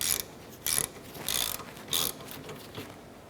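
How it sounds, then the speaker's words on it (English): A ratchet snugs down the brake caliper bolts on a 2004–2008 Acura TL, with four or five bursts of quick, close clicking separated by short pauses. "Let's go ahead and snug these bolts down here."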